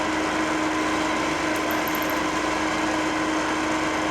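A drill bit spot-drills a model steam engine cylinder on a lathe, giving a steady, loud machine whine with a constant hum that runs unbroken throughout, with no talk.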